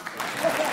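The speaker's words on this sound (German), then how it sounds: "Beifall bitte." Brief applause from a studio audience on a German television comedy show, a short burst of clapping that swells slightly as it goes.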